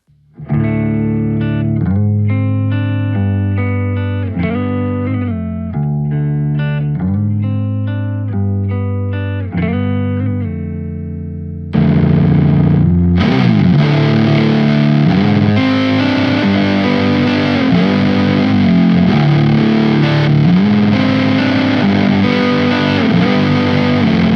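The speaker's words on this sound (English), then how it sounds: "In the last section comes the fuzzy overdrive tones, venturing into new, gritty territories with a thick, textured sound." Distorted electric guitar through a Kernom RIDGE overdrive pedal plays chords and riffs, first with a cleaner crunch, then shifting abruptly to a thick, gritty fuzz tone that sustains loudly.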